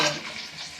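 Sliced ginger frying in hot oil for a beef pickle, a bright, dense sizzle heard up close that fades slightly over the short moment, with no talking.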